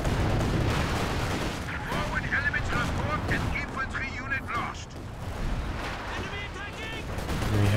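A Land Mattress rocket artillery barrage in a Company of Heroes 2 match rumbles with a dense, continuous roar of launches and blasts, loud and sustained, while a commentator talks over it.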